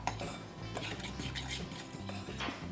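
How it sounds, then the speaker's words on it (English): Flour, baking powder, sugar and salt are mixed in a bowl, producing continuous close scraping and clinking of a utensil against the bowl. "you're gonna take your flour, your baking powder, sugar, and salt, and you're going to mix these together real well"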